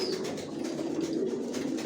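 Racer pigeons coo in a loft, a continuous low burbling with a brief higher call near the start and soft rustles that may be wings.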